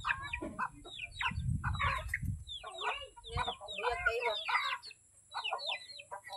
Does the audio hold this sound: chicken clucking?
yes